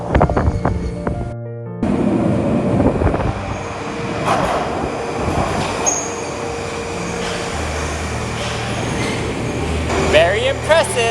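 Subway train pulling into a Russian metro station, a steady rumbling roar with rising mechanical whine and brief squeals, heard close in an echoing underground hall beneath people talking.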